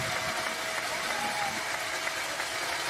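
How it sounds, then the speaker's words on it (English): A high school varsity football crowd at a state quarterfinal roars as a steady, distant wash of noise, with an announcer's voice faintly over it. "Bulldog crowd is loud."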